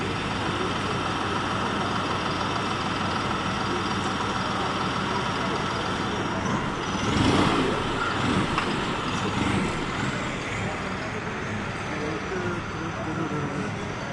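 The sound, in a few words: sold tractor driving off at agricultural fair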